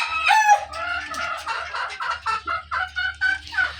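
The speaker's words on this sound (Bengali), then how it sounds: "দেখুন আমার মোরগটা কোথায় উঠে বসে আছে" A rooster clucks and calls repeatedly at close range, a run of short, rhythmic squawks that sound throughout without pause.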